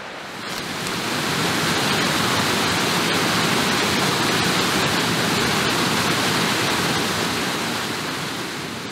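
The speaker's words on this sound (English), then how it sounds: "We got a little waterfall action down there." Small waterfall on a Pennsylvania ridge hike, a steady, loud broadband rush of falling water that holds constant throughout with no talk.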